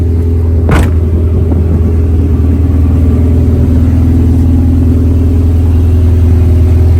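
Honda Civic EK hatchback with a B-series VTEC engine running loud and close, a steady deep engine drone with a brief sharp burst near the start, continuous without talk.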